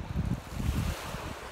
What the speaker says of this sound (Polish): Tutaj jest nasz nowy ocean.